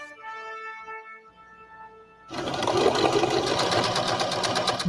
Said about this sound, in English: Brooklyn Karasak, using her grandmother's sewing machine, leans into what she loves.